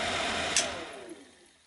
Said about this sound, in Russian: У нас даже есть печка. Первое положение.